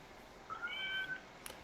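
A house cat gives a single short, thin meow, moderately close but fairly quiet, against a quiet room background.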